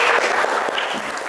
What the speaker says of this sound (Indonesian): Tepuk tangan dulu buat Rahmat